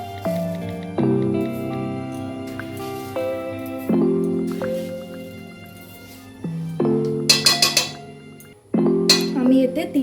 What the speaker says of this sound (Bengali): এইভাবে দুধ দেওয়ার পরে আস্তে আস্তে নাড়াচাড়া করতে হবে।